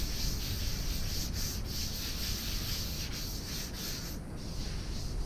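A bare metal fuel tank is sanded by hand in a garage: continuous close scratchy rubbing with quick back-and-forth strokes and brief pauses, heard alone.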